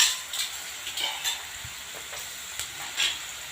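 Onions added to hot oil with garlic, ginger and chilies, sizzling and frying in a pan while being stirred, a steady hiss with a few louder crackles and scrapes, no voices.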